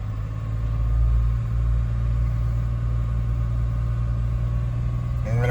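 A Jeep JK engine held at a raised speed of about 2,500 RPM, a steady, loud, continuous drone and rumble close to the microphone with no talk over it.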